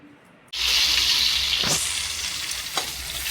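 Onions drop into hot oil for a curry and burst into a loud, steady sizzle that continues throughout, with a couple of brief stirring scrapes in the middle.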